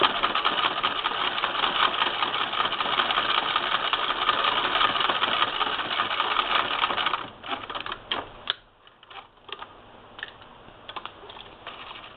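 A 1959 Singer Spartan sewing machine stitching, a steady close-up mechanical whir that runs continuously, then breaks into short stop-start bursts toward the end.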